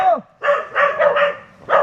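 Big dog barking nearby, a run of four or five loud, deep barks in a fairly quick rhythm, heard alone with no talk over them.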